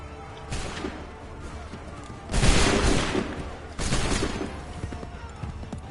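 Musket volley fire in Assassin's Creed III, with bursts of crackling gunfire rising at intervals over a steady background bed, fairly distant and moderate in level, without speech.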